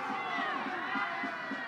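Home supporters at a Queens versus Clemson men's college soccer match roar their displeasure in a steady, broad crowd din. Rhythmic low thumps run underneath, and a commentator's voice may sit faintly in the mix.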